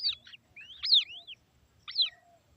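Several high, thin chirps from white-breasted waterhen chicks in short bursts with brief pauses between them, fairly close and clear over a quiet background.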